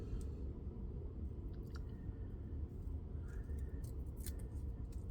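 Faint scissors cutting off part of scrapbook material, a few soft snips over a steady low background hum, quiet and close, no talking.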